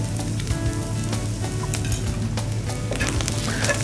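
Okra sautés with chilli powder and coconut in a hot pan, giving a steady close sizzle and crackle throughout, with a few soft stirring clicks and no talking.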